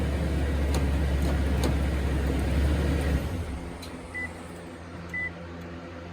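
A Toyota truck's engine idles with a low rumble and shuts off partway through after its key fob lock is pressed three times. Brief faint beeps follow in the quiet.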